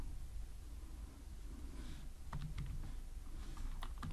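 Typing on a computer keyboard, a run of soft quick keystroke clicks that gets busier in the second half, heard faintly over a steady low room noise.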